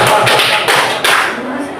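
A group plays a counting clap game, clapping together in time. Three or four loud, sharp, synchronized claps land in a quick even rhythm, close by.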